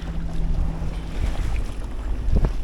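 A sailboat's motor drones steadily at low pitch under wind buffeting the microphone and water noise, continuous and fairly close, with no voices.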